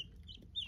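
Several short, high chirping peeps from small chicks, close by, over a low rumbling background.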